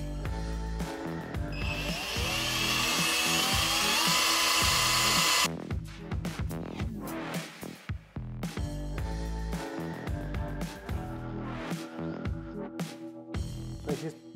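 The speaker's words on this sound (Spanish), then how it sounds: "entonces voy a usar este taladro de 12 voltios" A 12-volt drill whines steadily at high pitch for about five seconds while modifying a Hasbro Spengler's Neutrona Wand toy prop, then stops and gives way to light clicking and handling noises.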